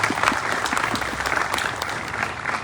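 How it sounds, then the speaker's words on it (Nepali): Audience applause breaks out for the people behind a Nepali film event honoring actor Khagendra Lamichhane's Furkya, a steady, dense wash of many hands clapping at full volume throughout. "उहाँहरूका निम्ति पनि एकचोटि ताली बजाइदिनु आग्रह गर्छु"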